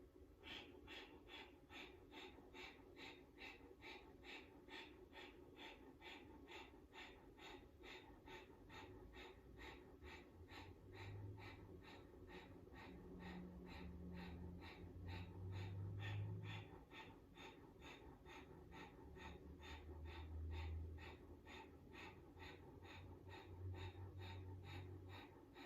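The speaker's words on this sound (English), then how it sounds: "breath of fire." Breath of fire during a yoga practice: a long run of quick, even, rhythmic nasal exhalations, faint and steady over a low background hum.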